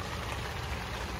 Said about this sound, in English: Yeah, we have a tarp over the tent and that little four poster tent. And it's raining.